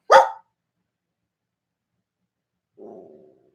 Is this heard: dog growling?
yes